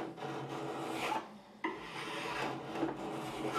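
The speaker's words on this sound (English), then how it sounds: "I'm just going to go across the frets. And I'm going to take off these burrs off the edges." A file rasps across the fret edges of a Tokai Telecaster-style guitar during a re-fret to take off burrs. Close, steady back-and-forth rubbing strokes come with a short pause midway.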